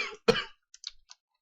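A single sharp cough, fairly close and moderately loud, followed by a few faint clicks and quiet rustles.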